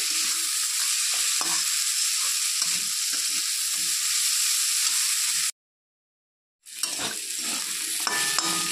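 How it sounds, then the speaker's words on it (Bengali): Potatoes with turmeric fry in a pan with a loud, continuous sizzle and frequent scraping stirs. The sizzle drops out for about a second, then returns along with a few light clinks of utensils. No one speaks. "আলুটাকে একটু ভাজতে হবে।"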